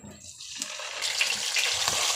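Spices dropped into hot soybean oil in a frying pan, a broadband sizzle and hiss that swells after a quieter start and keeps crackling steadily, with no voices.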